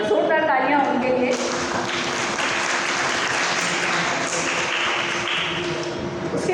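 Sustained applause from an audience at an award ceremony honouring recipients, dense steady clapping filling the whole stretch at an even loudness.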